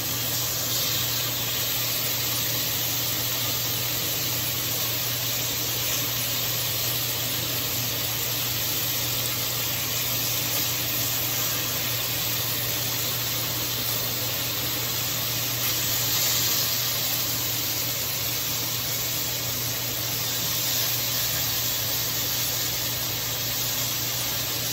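Pork for Filipino adobo browns in a hot pan, giving off a steady, even sizzle and hiss that runs unbroken throughout, with nothing else heard.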